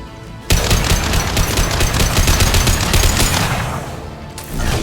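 Sustained rapid gunfire in the video game Mass Effect 2 during a firefight against snipers, loud dense bursts of automatic fire that run almost continuously for about four seconds before cutting off.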